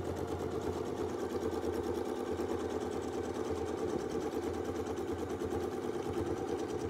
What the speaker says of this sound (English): so now we'll double stitch on the bottom side.